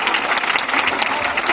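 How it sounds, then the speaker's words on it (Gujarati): Loud, dense applause from an audience at a women's day event held by a women's group in Panchvati, Nashik, with many hands clapping steadily and close throughout. "આપણે મહિલા મંડળ માટે એક જોરદાર તાળી થઈ જાય."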